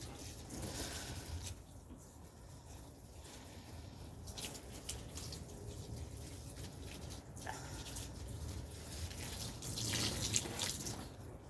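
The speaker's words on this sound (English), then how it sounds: "So the first thing I do is water my plants." Water runs steadily from a hose or tap while plants are watered outdoors on a breezy morning, a soft continuous wash with wind noise and no talking.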